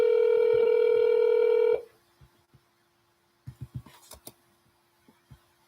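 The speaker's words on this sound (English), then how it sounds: "press 1 to listen to your message" A telephone keypad button press sounds a loud, steady DTMF tone for about two seconds, followed by a few faint clicks and then a quick cluster of sharp handset taps and knocks.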